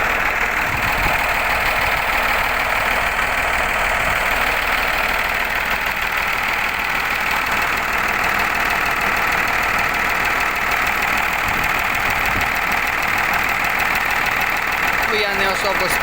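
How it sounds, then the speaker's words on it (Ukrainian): A T-150 crawler tractor's diesel engine runs steadily throughout at close range, a constant loud rumble with a faint knocking texture and no break. "Чуєте, як двигун працює?"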